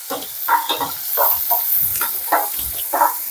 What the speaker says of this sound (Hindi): इसको अच्छे से भून लेंगे।